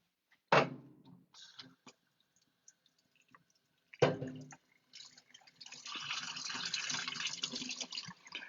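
Pasta cooking water for pasta e ceci pours out of a pot into a kitchen sink, with a sudden splash, a pause, then a second gush that becomes a steady rushing stream, close and moderately loud.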